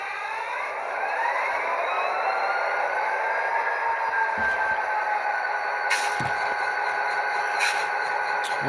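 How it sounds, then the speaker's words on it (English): Model locomotive, an Athearn SD45T-2 with a Tsunami2 sound decoder, starting up: a rising whine settles into a steady diesel-style idle tone, with a few brief clicks and knocks. "since our locomotive has started up"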